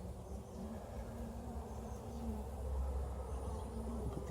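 Honeybees buzzing around an open hive during an inspection, a dense steady drone of many wings close by, with individual bees whining past, and no talking.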